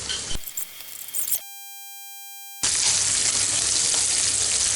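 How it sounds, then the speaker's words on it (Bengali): Cinnamon, black pepper and onion fry and get stirred in a pan, a steady hissing sizzle that cuts off for a tone-filled gap of beeps, then returns louder and continuous. "দারচিনি, গোলমরিচ, পেঁয়াজ, সবগুলো দিয়ে আমি ভালো মতো এটিকে নাড়বো।"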